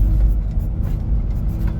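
A truck drives nearby with a steady low engine rumble and road noise, loud and continuous throughout with no talking.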